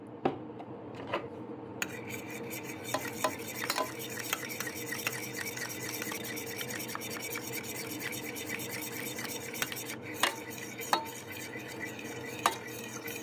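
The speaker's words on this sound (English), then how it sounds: "at the very last minute, I kick it up by putting a little bit of cream" A spoon stirs cream into hot gravy in a pan for meatloaf, continuous close scraping and swishing with scattered metallic clinks against the pan, no voices.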